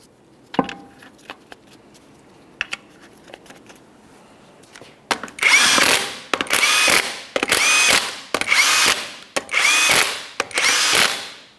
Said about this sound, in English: For the lug nuts, we're going to start each of them on. Once they're all started on, we can bottom them out.